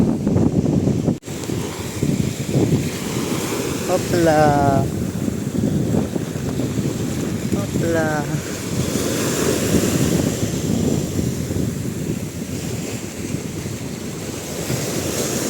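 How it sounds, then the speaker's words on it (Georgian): Continuous roar of ocean surf with waves crashing on rocks close by on the Italian coast, steady wind noise throughout, and a brief voice calling out twice. "როგორ ეხეთქება ტალღები"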